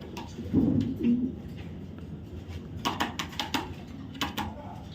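Racing pigeons, Green Neck Budapest among them, coo softly close by, with low throaty calls early on, then a string of wing flutters and scuffling taps, and faint talk in the background.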